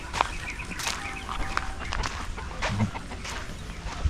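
Chickens and a rooster clucking on a farm, with scattered close clucks and calls over a soft background and occasional footsteps.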